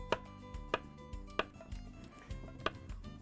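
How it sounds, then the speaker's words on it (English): Knife chopping food into small chunks on a board for shrimp tacos, crisp, evenly spaced strikes about every half second, close and clear with soft rustling between cuts and no talk. "we're just gonna go ahead and cut it into small chunks"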